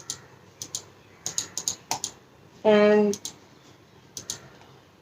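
Keys clack on an iGear KeyBee wireless keyboard styled like a retro typewriter, giving scattered close, crisp clicks in short bursts, with someone speaking briefly partway through.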